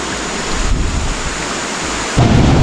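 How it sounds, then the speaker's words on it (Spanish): A small waterfall spills over rocks at Salto de las Pavas in Norcasia, Colombia, a steady broadband rush of water that swells louder near the end, with no voices. "Aquí se forma una pequeña cascada gracias a las rocas que están a los lados."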